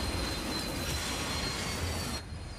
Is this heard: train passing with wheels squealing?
yes